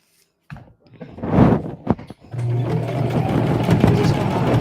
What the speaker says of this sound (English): I'm just going to keep sewing in the ditch.